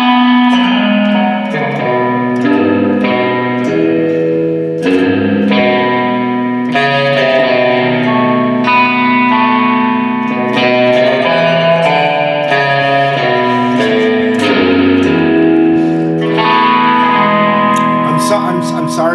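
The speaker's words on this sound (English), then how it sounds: "Can we hear some more of that haunting reverb-only setting?" Electric guitar plays slow chords and single notes through an amp, each note trailing into a long, washy reverb tail that fills the gaps.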